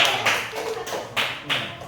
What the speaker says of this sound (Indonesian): Silakan dulu tepuk tangan untuk kelompok 1.